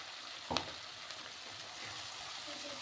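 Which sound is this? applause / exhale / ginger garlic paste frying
ginger garlic paste frying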